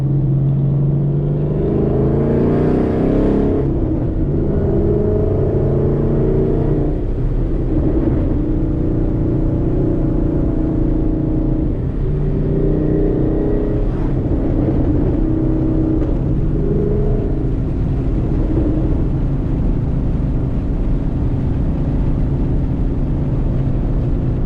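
Loud 2013 Ford Mustang GT V8 revving hard through canyon twisties, engine rising and falling in repeated pulls with crackling backfires, close and continuous throughout.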